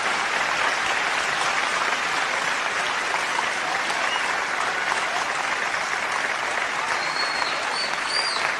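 A crowd at an Urdu poetry mushaira bursts into sustained, even applause. The clapping is loud and continuous across the whole stretch, with faint voices mixed in.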